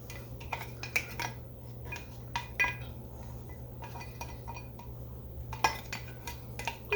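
A small spatula scrapes melted butter from a dish for a chocolate chip pie, giving soft clinks and scrapes in scattered bursts over a steady low hum.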